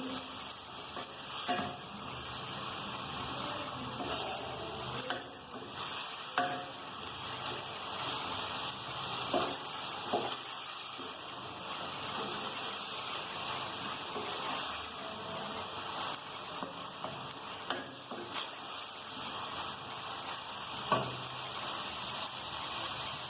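Ginger paste fries in a pan, giving a continuous hissing sizzle over nearly half a minute, broken by soft scrapes and taps of stirring. The sound is steady and moderately close with no speech.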